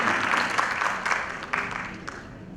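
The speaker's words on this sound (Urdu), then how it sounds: "تالیوں سے استقبال کیجیے سر" Audience applause at a certificate distribution ceremony of an IT school, a dense patter of clapping that runs steadily for a few seconds with slight swells and a voice faintly beneath it.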